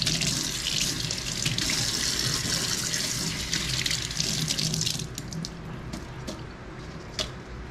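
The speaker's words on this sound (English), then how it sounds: "Wash the pandan leaf first." Tap water runs steadily and loudly into a sink as pandan leaves are rinsed under it, the flow easing slightly near the end with a few splashes and squishy handling noises.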